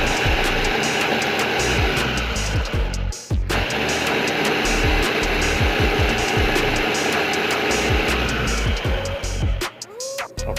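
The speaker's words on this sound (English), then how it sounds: "after they've been boiled and they're softened, time to blend them" A blender runs steadily at high speed, whirring loud and continuous as it purees boiled, softened tomatillos into a creamy sauce, with a brief pause near the middle before the motor resumes.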